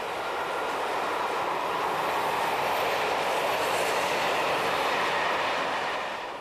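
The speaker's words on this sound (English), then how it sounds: "an apparently endless stream of passenger and freight trains through spectacular mountain scenery" Passenger and freight trains running on a Swiss mountain railway produce a steady, loud rumble of wheels on rails, with a continuous broad roar that holds level throughout and eases slightly at the end.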